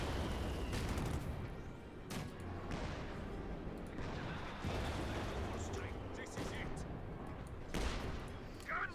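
Artillery bombardment in Company of Heroes 2 during an OKW versus USF match, repeated heavy booms and blasts landing every second or two over a dense battle rumble, with a commentator talking throughout.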